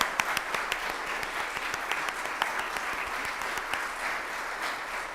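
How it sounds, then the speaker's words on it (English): Congregation at a Sunday church service clapping for the pastoral care coordinators, a steady moderately loud wash of applause with sharp individual claps standing out throughout. "stand up so we can clap for them"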